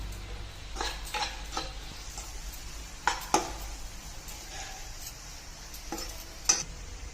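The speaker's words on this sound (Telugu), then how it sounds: "ముందుగా పెట్టిన ఆలుగడ్డలు ఇందులో వేసుకుంటున్నాను ఇలా బాగా కలుపుకున్నాక" Potatoes being stirred into a masala gravy in a pan, with a low steady sizzle and a few scattered utensil scrapes and taps against the pan, close and moderately quiet.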